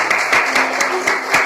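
A church congregation claps hands together during a worship service, a dense, steady, fairly loud applause with regular rhythmic accents.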